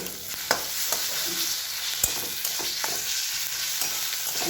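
Ginger and tomato paste sauté in a pan for a prawn dish, a continuous hiss of frying broken by a few sharp spatula knocks and scrapes, close-up and clear with no talking.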